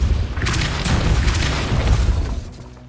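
A Depulso spell blast in Hogwarts Legacy lands as a loud, booming whoosh with a deep rumbling burst and crackling debris, fading out after about two and a half seconds.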